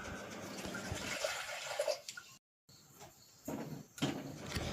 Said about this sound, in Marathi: बटाटे उकडण्यासाठी कुकरमध्ये पाणी टाकून घेऊ।